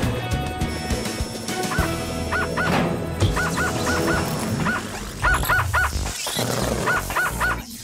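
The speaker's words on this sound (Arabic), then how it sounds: "آسف يا صاحبي، إيقاف الكلب الآلي" Short electronic yips and barks from a robot dog in the cartoon Paw Patrol, in quick bursts, toy-like and repetitive, over a busy background of clicks and tones.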